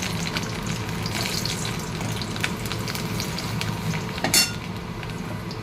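Chopped garlic fries in hot oil with a steady, loud, close sizzle, broken by a brief, sharper clatter near the end.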